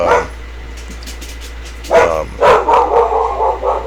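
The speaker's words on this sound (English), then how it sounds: "Now I got the other dog going off." A second dog barks in a hobby workshop while a scale model is shaped by hand. It starts with one brief yap, then after a pause comes a cluster of louder, fairly close barks.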